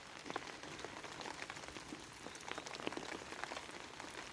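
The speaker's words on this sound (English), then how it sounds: "connect with the experience of being out here in the rain" Steady rain falls outdoors, a dense, even patter of drops spread across the whole clip with scattered louder hits, fairly soft and with no voices.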